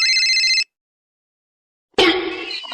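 A telephone rings with a bright, warbling electronic trill that stops abruptly, followed by more than a second of silence and then a burst of noisy, crackling sound.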